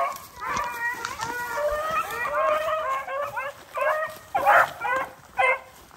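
Hunting dogs bark and yip excitedly in repeated bursts during a rabbit hunt outdoors, fairly close and loud, with irregular pauses between clusters of barks.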